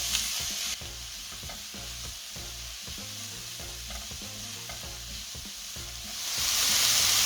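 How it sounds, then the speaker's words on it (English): Beans sautéing in a hot pan for burnt garlic veg fried rice: a continuous sizzling hiss with a rhythmic series of scraping, stirring strokes throughout, and the frying hiss swelling louder toward the end. "Next, we're going to add beans. Saute it for a minute."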